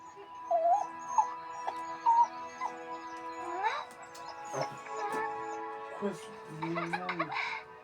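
A dog whimpers and yips in short, high whines, with a person talking gently nearby over the whimpers.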